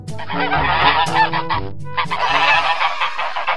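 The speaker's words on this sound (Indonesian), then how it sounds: "Angsa." Goose honking, a series of loud, close nasal honks repeating with little pause across a few seconds, with no talking.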